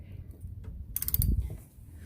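A hex bit turns the bolts of a swivel seat during a van build, giving a short burst of close metallic ratcheting clicks in the middle of quiet mechanical handling.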